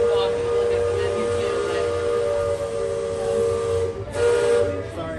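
A loud, sustained steam whistle blows steadily throughout near Columbia Harbor House, with a hissing burst of steam near the end.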